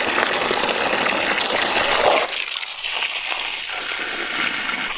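Water gushes hard from a newly drilled well, a loud continuous hissing rush that slackens and shifts midway into a lighter splashing flow.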